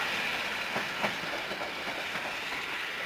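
Near Kłodzko Główne station, a Koleje Dolnośląskie train from Wrocław rumbles past in a steady, hissing roar, with faint clickety-clack from wheels crossing rail joints.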